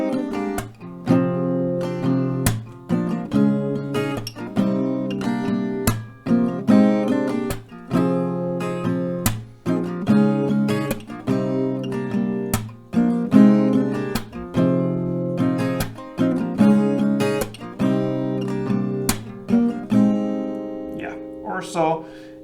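Acoustic guitar strummed in a steady rhythmic pattern of chords, playing a song, close and clear with no talking, ending on a brief flourish.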